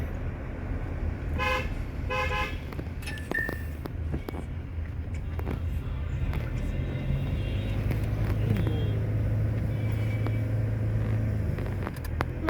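Trucks rumbling past on a road between Srisailam and Mahanandi, with a loud steady engine drone and several sharp horn toots early on and another later, heard from inside a moving vehicle.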